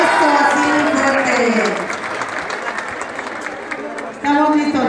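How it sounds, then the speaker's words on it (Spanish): School crowd at a Mother's Day event applauding the second-grade children, clapping mixed with loud amplified voices, fading midway and swelling again at the end. "recibir con un caluroso y fuerte aplauso a los chiquitos de segundo"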